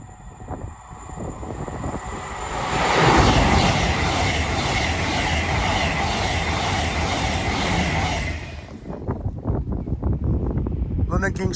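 A passenger train, the Hull Paragon to London King's Cross service, passes at Tuxford as a steady, loud rumble of wheels and engine that builds at about three seconds, holds, then fades near the end.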